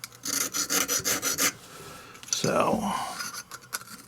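A sharpening stone removing burrs from the slot of a new cap and ball revolver: about eight quick rhythmic rasping strokes, then a pause and a longer grinding rub, with a brief spoken word.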